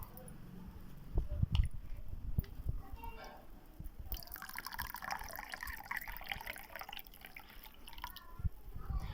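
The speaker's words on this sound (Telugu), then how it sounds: "వాటర్ పోస్తున్నానండి." Water poured into containers with sugar and lemon juice while making ice gola, a steady close splashing and trickling that grows fuller after the first few seconds and runs on without speech.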